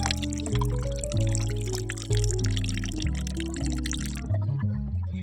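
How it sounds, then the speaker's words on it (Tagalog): Two cans of Alaska evaporated milk are poured into a plastic Tupperware container, a steady liquid stream with drips and gurgles over soft background music. "ilalagay ko na dito sa Tupperware ang 2 lata ng Alaska evap"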